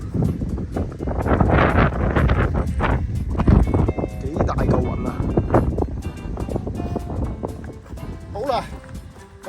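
Strong wind buffets the microphone in heavy gusts while a person speaks and breathes hard outdoors.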